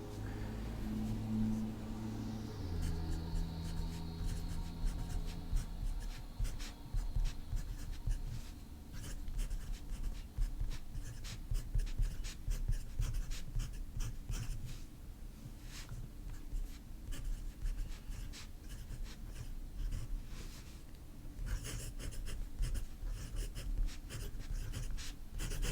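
A fountain pen with a cursive italic nib scratches across paper in a continuous stream of close, quiet strokes and short scritches, steady throughout with brief pauses, and no voice.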